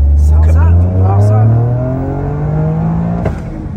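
A tuned 400 hp Toyota Yaris engine drones loudly up close with falling then rising pitch, one sharp exhaust pop near the end, while voices talk over it.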